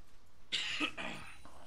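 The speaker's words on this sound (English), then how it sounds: "Got a little bit of a cough." A single short cough with a throat-clearing edge from a commentator during a League of Legends match broadcast, close to the microphone and quiet overall.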